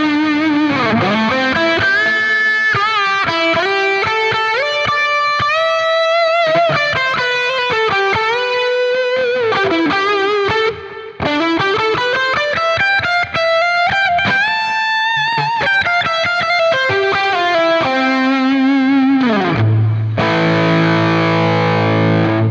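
Electric guitar lead played through a Quad Cortex preset with hall reverb and digital delay, loud and continuous with soaring, bending sustained notes, ending on a chord; no talking.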